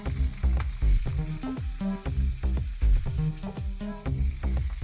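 Garlic sizzles in oil on a barbecue alongside lamb chops, a loud, steady crackling fry with popping bursts throughout, close up.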